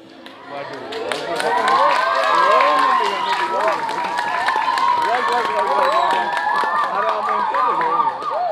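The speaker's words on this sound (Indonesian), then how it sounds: "Oh, yang tepuk tangan nih." Audience applause and cheering at a live Balinese gong drama performance, a dense crowd of clapping hands swelling and holding steady, with scattered voices and a melodic line weaving through.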